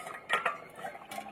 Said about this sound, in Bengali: এবার ঢাকনা খুলবো